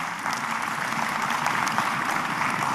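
Sustained audience applause at a university graduation ceremony, a dense, steady wash of many hands clapping that fills the whole stretch at even strength with no voices on top.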